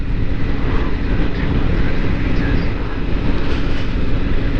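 A Triumph Tiger 900 motorcycle is ridden on the road, with a loud, continuous roar of wind and engine drone that stays constant throughout.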